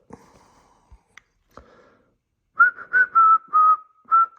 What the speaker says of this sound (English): now if I whistle in here, it should change resistance